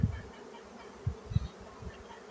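Honeybees hum around spring hives near willow trees, a faint steady drone with a few louder buzzing passes close by.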